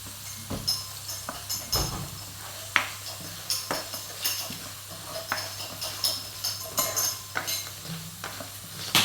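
Potato masala for potato bhaji is stirred in a pan, giving rhythmic, repeated scrapes and clinks of the spoon against metal over a soft sizzle, close and fairly even throughout.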